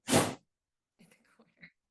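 A dog's sneeze, one loud close burst at the start followed by soft, quiet talk.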